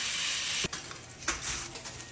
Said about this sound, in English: Next, you're going to cook up a pound of either bacon or guanciale cut up into quarter inch cubes.